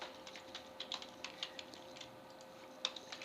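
Light, quick keystrokes on a computer keyboard, a close, quiet patter of irregular clicks with a few sharper taps, no voices.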